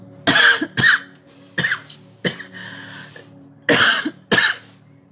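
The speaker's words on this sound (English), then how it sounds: "There's going to be lots of coughing tonight." Harsh, chesty coughing close by, coming in several separate fits of one or two coughs each with short quiet gaps between them.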